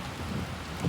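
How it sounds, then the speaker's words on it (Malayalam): Heavy morning rain falls steadily in a brief stretch, a dense continuous hiss with a slight swell near the end and no voices. "മഴയോട് മഴ."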